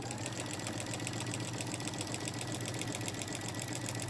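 A sewing machine stitches binding onto a quilt, running at a steady pace and giving a continuous, even mechanical whir with a fine rapid chatter, moderately quiet and uninterrupted throughout.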